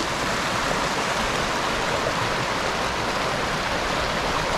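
A river at Roan Mountain State Park in Tennessee rushes in a steady, dense wash of water noise, even and unbroken, with no voices over it.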